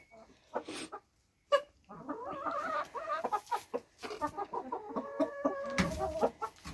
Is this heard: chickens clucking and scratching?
yes